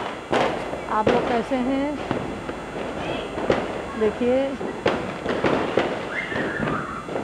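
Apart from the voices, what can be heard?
children setting off firecrackers during Diwali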